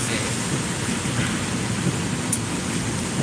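Rain falling during a motorcycle ride, a steady dense hiss of drops and wind noise that fills the whole scene without pause.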